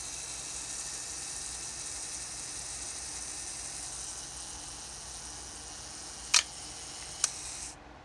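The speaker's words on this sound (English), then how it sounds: "So the self-timer works nicely" A Nikon F Photomic camera's self-timer whirs as a steady, faint, even buzz for several seconds, then two sharp close clicks of the shutter release sound in quick succession before it falls silent.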